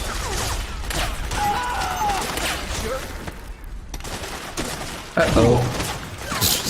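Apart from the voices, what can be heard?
grenade explosion in video game Metal Gear Solid 4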